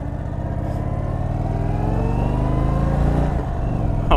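A 2022 Indian Super Chief Limited motorcycle with a 116 engine revs up close and loud, its deep rumble climbing steadily in pitch as the bike pulls away and accelerates.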